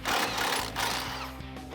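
A 16 mm deep socket on a power tool whirs briefly and steadily, removing the factory nut from the sway bar end link on a 2012-2018 Ram 1500 pickup.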